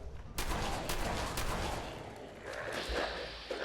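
Shotgun blasts in the Fallout 4 wasteland as a ghoul is shot, loud broadband bursts in a dense rolling volley over a constant game din, several sharp reports spread across a few seconds.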